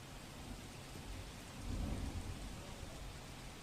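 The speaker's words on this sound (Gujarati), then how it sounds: "ભારે વરસાદને કારણે કાલોલમાં પાણી ભરાઈ ગયા" Dense, constant hiss of heavy monsoon rainfall flooding streets in Kalol, Panchmahal, Gujarat, with a low rumble swelling briefly in the middle, like distant thunder; no voices.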